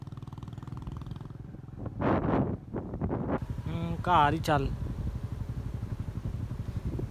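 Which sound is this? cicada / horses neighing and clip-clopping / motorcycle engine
motorcycle engine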